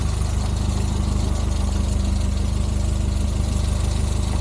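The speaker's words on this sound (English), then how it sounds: "But that's actually running really smooth now" A Renault R8 engine fitted with modern ignition idles smoothly and evenly, a close, steady low throb with a regular pulse and no voices.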